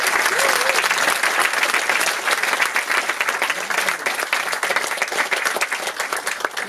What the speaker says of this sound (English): which is worthy of applause